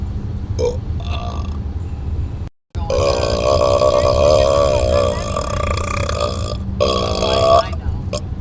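A person burping inside a car, letting out long, loud, drawn-out belches close to the microphone, with a brief silent break and a few shorter burps, under some talking.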